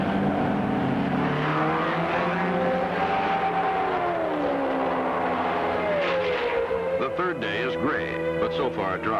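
Race cars circulate behind a pace car under a red flag as rain begins to fall. Their engines make a loud, continuous drone whose pitch slowly rises and falls, with no pause throughout.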